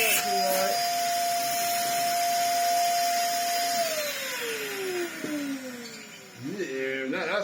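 A Vax Air vacuum motor fitted into a Henry vacuum cleaner body runs with a steady high whine that later drops in pitch, then rises again, under a continuous airy rush.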